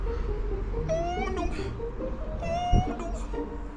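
A house cat meows twice indoors, each call drawn out and fairly close, with background noise and a faint human voice underneath.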